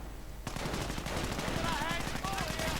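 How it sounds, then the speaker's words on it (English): Sten gun fire in a real-time strategy video game battle, a rapid sustained stream of automatic shots rattling continuously and loudly, mixed with other battle noise and brief whistling effects, with a commentator speaking over it. "lots of Sten gun fire can still do a bit of damage"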